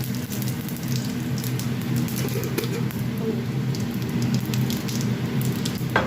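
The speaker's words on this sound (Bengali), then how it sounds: "তো তেলটা পুরো রেডি চাইলে এখন পেঁয়াজটা দিয়ে দিতে পারিস" Onions added to hot oil in a pan for a katla fish curry set up a steady, dense sizzle like heavy rain that holds close and even throughout.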